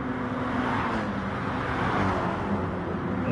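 GT3 race cars in a sim racing game at Kyoto Driving Park, engines droning hard and steady at high revs, a continuous dense roar with no pauses.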